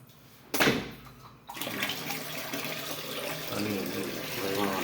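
A brief splash, then a steady rush of water flowing and gurgling in a workers' toilet in Tamil Nadu, continuing for several seconds at close range.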